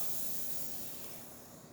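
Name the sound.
Zacconi Baby Luso espresso machine steam wand hissing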